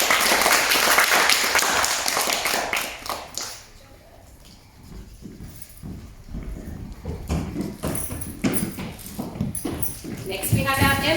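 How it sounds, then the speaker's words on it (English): Clapping from a school assembly audience honouring gold award recipients, a dense steady patter of many hands that dips partway through, then swells again, with talk mixed in. "Please give our gold award recipients a big clap."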